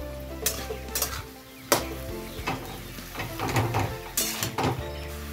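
A utensil scrapes and stirs egg with salt and turmeric in a pan, with soft sizzling underneath and sharp scraping strokes recurring at an uneven pace.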